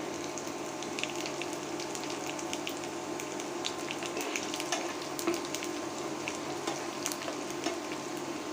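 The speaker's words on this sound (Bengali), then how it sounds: "পাঁচফোড়ন, জিরা অলমোস্ট ভাজা হয়ে গিয়েছে" Cumin and panch phoron fry in oil with onion and garlic in a rural Bengali home kitchen, making a continuous quiet sizzle scattered with tiny pops and crackles. No voices.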